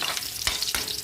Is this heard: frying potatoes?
yes